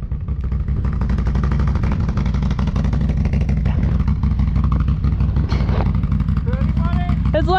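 A 100 hp ATV engine runs while pulling a giant unicorn snow tube over snow, a loud, steady, rumbling drone throughout, with a voice briefly heard near the end.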